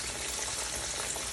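Breaded green tomato slices fry in a pan of hot oil over medium-high heat, giving a dense, steady crackle and sizzle, close and loud with no pause.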